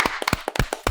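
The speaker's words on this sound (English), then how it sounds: "Clap it up for Onel OVO" Applause and clapping from people in a podcast studio, greeting a guest with a quick burst of sharp, uneven hand claps lasting under a second.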